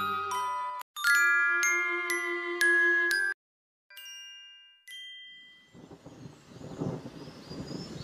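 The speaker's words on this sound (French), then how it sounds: "un orage éclata et il commença à pleuvoir" Bright chiming tones ring out, then a low rolling rumble of thunder builds and swells.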